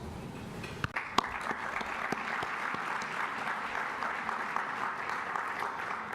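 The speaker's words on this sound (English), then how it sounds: "all of you, again, deserve a round of applause" Sustained audience applause at a graduate initiative opening session, a full even patter of many hands with a few sharper near claps early on, continuing throughout without speech.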